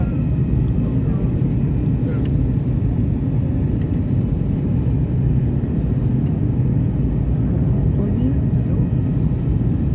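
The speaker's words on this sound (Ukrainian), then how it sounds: "Ми сідаємо у Кракові." An airplane lands in Kraków, heard from inside the cabin as a steady, loud low rumble of engines and airframe throughout, with faint clicks and rattles on top.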